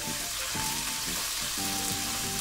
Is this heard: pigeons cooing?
no